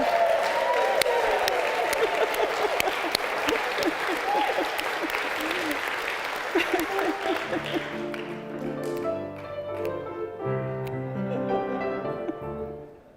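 A church congregation, gathered in person for a service, claps and cheers in a loud, dense burst for about seven seconds. The applause then fades under organ or piano music that rings out alone.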